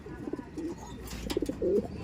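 Soft, low pigeon coos repeat in a few short rolling phrases close by, with faint background noise.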